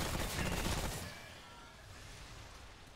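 Dense, rapid gunfire in the video game Remnant From The Ashes, fairly quiet, bursting for about a second and then fading into a lower rumble.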